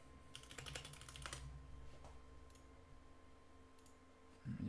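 Quick bursts of keystrokes on a computer keyboard enter a YouTube search, close and crisp, with clicks tapering into faint background hum.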